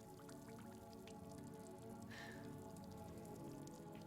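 Water drips in the Silent Hill 2 Remake video game, a steady patter of droplets over a dense, humming ambient drone, with one brighter splash standing out midway.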